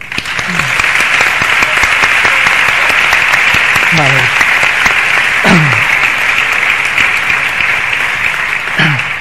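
Loud, dense applause from an audience at a festival queen presentation in Nules, honouring a poet, filling the space steadily throughout, with a man's brief word and throat-clearing over it.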